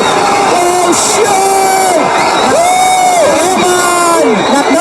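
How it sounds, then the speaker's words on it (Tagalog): A boxing arena crowd roars and whoops continuously after a knockdown, loud and sustained, with overlapping shouts and cheering throughout. "Sumisigaw ang crowd, hindi makapaniwala ang lahat"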